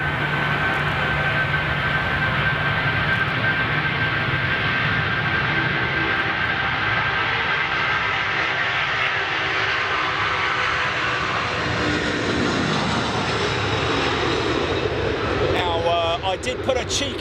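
A jet airliner bound for Dubai roars down the full length of the runway on takeoff, loud and sustained with a steady whine, and speech is mixed in.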